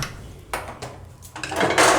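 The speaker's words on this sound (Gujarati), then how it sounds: "કુકરનું ઢાંકણું બંધ કરી દેવું" A pressure cooker lid is set in place and closed in a home kitchen, giving a few separate metallic clanks and scrapes that grow louder toward the end, with no talking.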